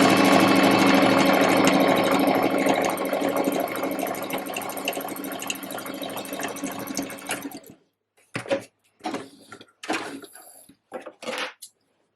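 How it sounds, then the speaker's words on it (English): A sewing machine runs a straight stitch around a curved seam on trousers with a half elastic waist, a steady close mechanical whir for about eight seconds, then stopping and giving way to a few short bursts of handling noise. "I'm just going to sew around that curve with a straight stitch and a 1 centimetre seam allowance."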